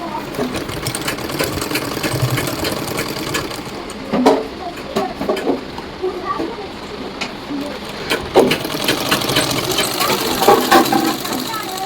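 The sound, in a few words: sewing machine stitching freely after oiling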